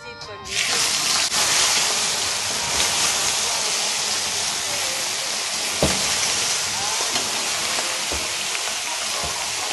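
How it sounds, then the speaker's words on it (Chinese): Live blue lobster halves dropped into oil in a pan set off a loud, steady hiss and sizzle that runs for about nine seconds, with occasional pops and clatters. "我就将个龙虾放落去啦。"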